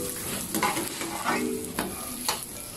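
Slices of French toast bread sizzle steadily in a hot frying pan. The frying runs through the whole stretch with no talk, and a few soft scrapes come through as the bread is stirred and turned.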